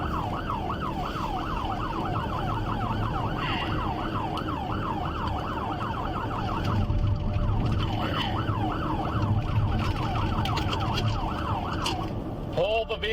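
A police car siren wails up and down continuously, loud and close, over a running engine and road noise.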